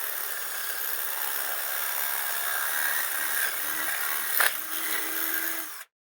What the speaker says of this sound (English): what we're going to do is very carefully drill these holes a little bit bigger. I like using step drills.